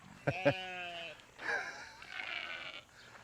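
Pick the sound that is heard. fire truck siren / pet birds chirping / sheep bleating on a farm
sheep bleating on a farm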